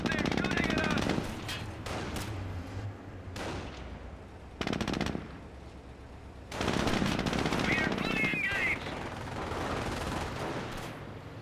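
Machine-gun fire from a jeep in Company of Heroes: dense, loud bursts of rapid gunfire, broken by brief gaps, mixed with other battle noise.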